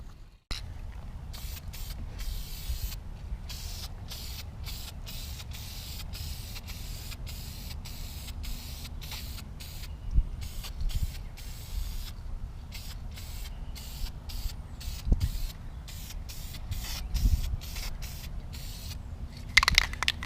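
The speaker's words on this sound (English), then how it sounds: "this is the paint we're using, Duplicolor vinyl and fabric paint" Duplicolor vinyl and fabric aerosol paint sprays onto a boat seat in short, rapid hissing bursts, with brief pauses between passes, close and fairly loud throughout.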